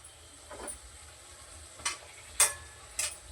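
Puri dough for churma ladoo dropping into hot ghee, a low bubbling fry with a few sharp spattering pops and crackles near the end, close and without talk.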